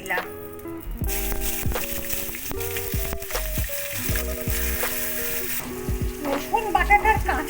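Garlic paste sizzles and fries in a hot pan, a steady crackling hiss running throughout with stirring clatter, while a voice talks over it in Bengali.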